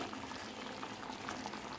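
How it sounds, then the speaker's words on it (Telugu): A pot of tamarind stew bubbles at a steady rolling boil, a continuous close gurgling simmer with no pauses. "పులుసు ఇలా మరుగుతుందండి"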